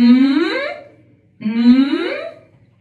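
Two rising, croaky vocal glides imitating a creaking door hinge, sung as a warm-up exercise; each creak swells from a low rattle into a brighter tone and fades, with a short pause between them.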